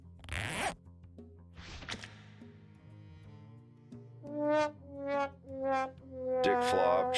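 A zipper sound effect for an animation rasps in one sharp, loud burst at the start, followed by quieter tonal material and a series of rising, harmonic swells later on.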